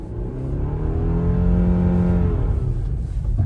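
A 2024 Subaru Forester's engine revs up in snow with traction control off, a loud, close rising drone that holds steady then eases as the wheels spin, with no talking.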